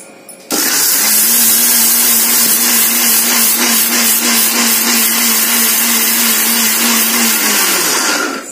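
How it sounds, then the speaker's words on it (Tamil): A mixer grinder starts abruptly and runs at full speed, grinding curry leaves into powder with a loud, steady high-pitched whir for about eight seconds before it winds down. "கொஞ்சம் விட்டு விட்டு அரைங்க."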